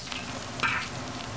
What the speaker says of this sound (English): we just oil drip the oil, hot oil. You see? Do you hear the noises on the green onions?